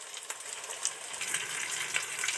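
Mango pakora deep frying slowly in oil over a low flame, a steady soft crackling sizzle with brief brighter pops scattered throughout.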